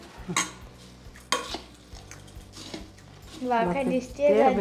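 A spoon scrapes and clinks steadily through a mixture as dry bhel chutney is stirred in, with repeated knocks against the bowl and a brief louder rustle near the end; a voice speaks briefly over it.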